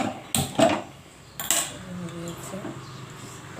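A pressure cooker holding dal, its lid clanked into place with two sharp metallic knocks, then faint handling noises as it is locked shut.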